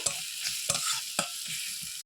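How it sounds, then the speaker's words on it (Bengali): Chillies frying in hot oil while mutton curry is cooked at home, a steady close sizzle broken by a few sharp stirring scrapes, with no talk. "লঙ্কাটা একটু ভেজে নেব"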